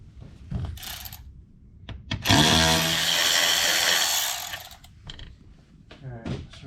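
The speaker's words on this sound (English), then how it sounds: "take this Torx bit out" A power driver backs a Torx bolt out of a Can-Am Maverick X3 during a door strut install, giving a short, fairly quiet whirring burst of about two seconds between brief moments of talk.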